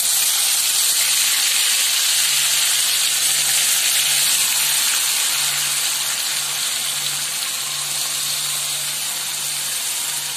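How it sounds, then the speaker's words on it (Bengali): Ginger, garlic and onion paste sizzling in hot oil for a rohu fish yogurt curry, a loud, close, continuous hiss with a faint hum underneath and no talking. "আদা রসুন আর পেঁয়াজের পেস্টটা দিয়ে দিলাম এর মধ্যে।"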